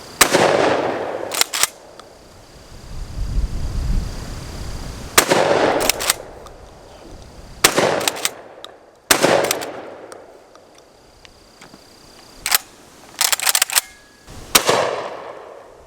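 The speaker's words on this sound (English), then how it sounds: "it cocks smooth anyway" An airsoft shotgun is racked and fired repeatedly, each sharp, loud report followed by a decaying crack, with quick mechanical clacks of the slide between shots, heard close and in uneven succession.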